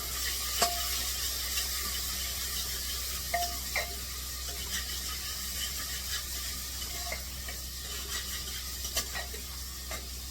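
Garlic and onion frying in hot oil inside a pressure cooker, a steady soft sizzle with occasional stirring clinks and scrapes, close and moderately quiet with no talking.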